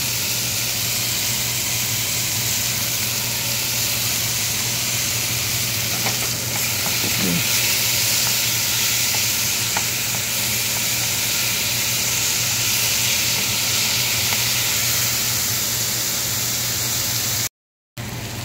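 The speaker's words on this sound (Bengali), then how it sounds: "পেঁয়াজ আর টমেটো আর রসুন ভাজা হয়ে গেছে।" Onion, tomato and garlic frying in a pan, a steady loud sizzle and hiss that continues throughout with faint stirring clicks, uninterrupted by voices.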